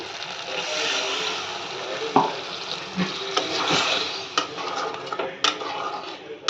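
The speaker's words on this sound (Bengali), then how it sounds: "এবারে দিয়ে দেবো আমি 1 বাটি জল" Water poured from a bowl into oily fried masala in a pan, with a steady hissing sizzle and scattered clinks of metal utensils against cookware, close and continuous.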